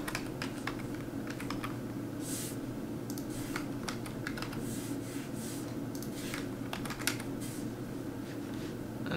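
Typing on a computer keyboard while entering order details for a Tesla Model 3 Performance purchase, irregular bursts of close key clicks over a steady low room hum.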